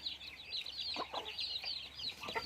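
Farm chickens and chicks cluck and peep quietly, a soft layer of high thin chirping with a few lower clucks breaking through in short bursts, faint and near, no voices.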